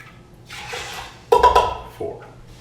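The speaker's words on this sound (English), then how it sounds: "Okay, so there's my water added." Water poured into a pot while cooking cheesy black beans: a soft, brief rush of liquid followed by a sharper splash, then a smaller trailing splash, close by in a quiet kitchen.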